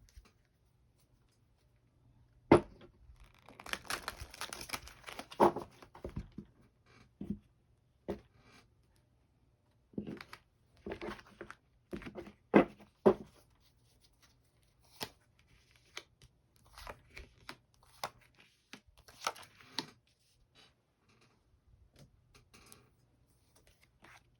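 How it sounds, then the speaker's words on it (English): Tarot cards are shuffled by hand in a quiet room, coming in irregular bursts of soft riffling and tapping with short pauses between, close and faint. "One more little shuffle."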